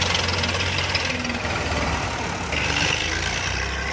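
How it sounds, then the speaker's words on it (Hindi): Close, loud tractor engine straining under heavy load during a wheeling stunt, a dense knocking diesel rumble that runs continuously, with faint voices in the background. "चंगा जोर लग रहा ट्रैक्टर का जी।"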